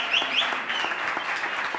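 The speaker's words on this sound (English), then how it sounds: "Big round of applause for them." Crowd applause at a global cocktail competition final, a dense continuous wash of clapping with a couple of whistles near the start, close and full, with no talk over it.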